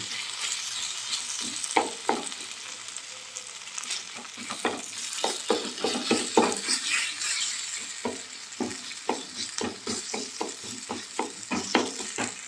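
Roasted eggplant sizzles in a pan with browned onion, chilli and garlic while a spatula stirs and scrapes in quick, repeated strokes, close and continuous.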